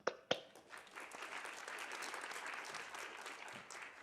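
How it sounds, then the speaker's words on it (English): Audience applause at a dental hygiene pinning ceremony for graduating students, starting with a couple of sharp claps and then swelling into steady, fairly faint clapping from a modest crowd. "Let's all give a round of applause for our three graduating students"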